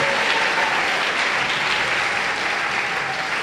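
A church congregation applauds with sustained, dense clapping that stays loud and even throughout, a steady wash of many hands with no break.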